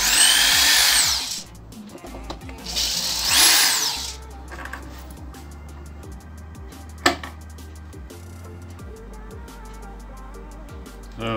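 Power screwdriver backing screws out of the wooden cabinet of a Sony SA-D40 subwoofer, two loud whirring bursts at the start followed by low motor hum, clicks and a sharp knock, all close by.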